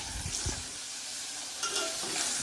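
Okra (bhindi) sautéing in a Gujarati tempering in a pan gives a steady close sizzle, with a few stirring scrapes and clatters over about two seconds and no talking.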